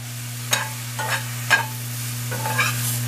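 Cremini mushrooms sauté in coconut oil in a pan, giving a soft continuous sizzle. Four or five distinct scraping stirs sound close, and a steady low hum from the stove or a fan runs underneath.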